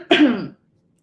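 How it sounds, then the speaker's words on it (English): A single short, throaty cough, close and fairly loud, lasting about half a second and followed by silence. "Got a little bit of a cough still."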